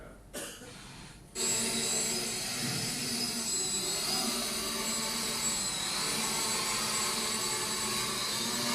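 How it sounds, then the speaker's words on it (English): A VTOL drone takes off vertically, its engine noise jumping from a brief start-up into a loud, steady, broadband whirring roar that holds for several seconds. "these are kind of a drone that actually shows you vertically taking off, and it becomes like a plane"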